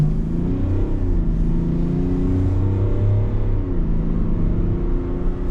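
Duramax diesel engine in a 2024 GMC Yukon Denali Ultimate droning steadily while driving, a low continuous rumble with gentle rises and dips in revs, heard from inside the cabin with no talking.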